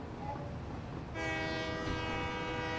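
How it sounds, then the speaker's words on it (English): Train whistle from a locomotive in the factory-building game Satisfactory, a sustained harmonic horn blast that starts about a second in and holds steady to the end over a continuous rumble of rolling rail noise. "The train whistle exists still."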